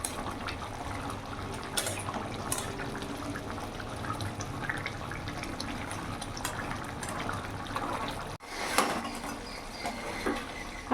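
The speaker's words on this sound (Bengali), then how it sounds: "মাছ দিয়ে আমি এখন কিছুক্ষণ ফুটিয়ে নেব।" A tilapia fish curry bubbles and simmers in a pan, a steady moderate wash of liquid boiling with small pops and occasional louder stirs, with a brief pause near the end.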